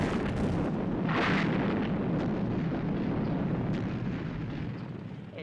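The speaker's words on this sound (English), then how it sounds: "You've got to get that nose cone clear by firing the missiles." Missiles fire from a Thunderbirds puppet craft to blast a nose cone clear, a sustained roaring rumble with a sharp burst early on that slowly fades toward the end.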